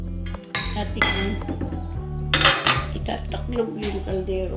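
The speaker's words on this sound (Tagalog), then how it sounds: "itataklob yung kaldero" A metal lid is set onto a cooking pot of fish mahluba, giving several sharp clinks and rattles over a steady low hum, with a voice talking faintly underneath.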